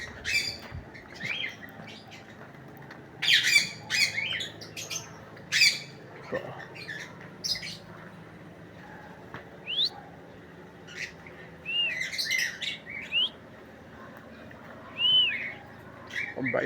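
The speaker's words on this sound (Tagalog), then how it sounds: "Ayan po yung ibon." Birds squawk and chirp at a private resort hotel in Gapan City, sharp calls and whistles arriving in bursts over a quiet outdoor background while a person speaks briefly.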